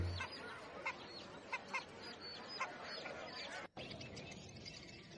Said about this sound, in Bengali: দেখুন দেশি মুরগগুলো অনেক সুন্দর বিক্রি করতে আছে